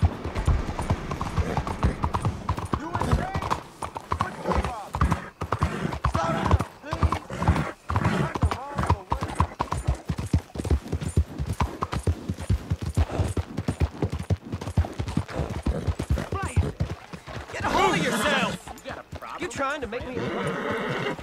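Rhythmic horse hooves clip-clop steadily up close while riding in Red Dead Redemption 2, with a horse neighing and someone talking over the hoofbeats throughout.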